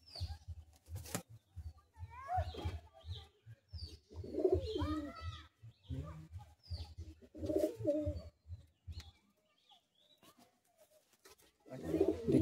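Madrasi pigeons coo in low, throaty runs, with repeated rolling calls close by and a few brief chirps, pausing near the end before resuming.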